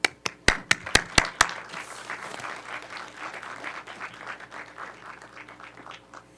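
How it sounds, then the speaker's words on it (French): A lecture audience welcoming the speaker begins with several sharp, loud individual claps up close, then swells into broad, sustained applause that gradually thins and fades. "Je pense qu'il faut l'accueillir avec un chaud applaudissement."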